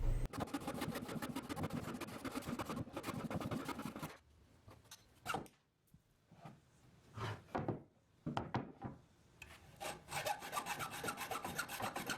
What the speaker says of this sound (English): I ended up having to trim 2 legs on each of the tables.